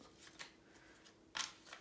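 Tarot cards shuffled by hand, soft riffling flutters with one sharper, louder burst near the end, close and quiet with no talking.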